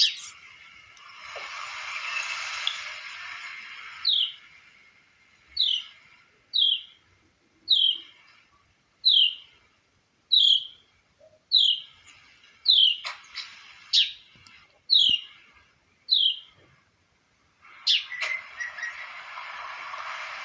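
A bird sings a repeated series of short, clear whistled chirps at a steady rhythm, each note separated by a brief pause, with a softer wash of other calls at the start and end.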